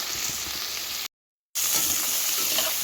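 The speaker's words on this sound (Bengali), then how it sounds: "এখানে ফুলকপিগুলো ভাজছি," Cauliflower florets frying in a pan with steady, close hissing sizzle, broken by a short silent gap midway before the sizzling resumes.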